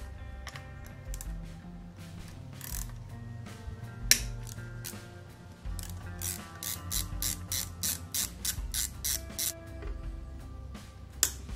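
A hand ratchet works loose 8 millimeter bolts on a Kawasaki Mule 500 (KAF300 B1) FE290D engine, giving repeated close, rapid clicking bursts with short pauses between them; no talking.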